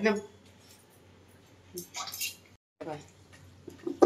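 Water is poured into a cooking pot of banana flower curry, with a couple of short splashing bursts midway and voices talking around them.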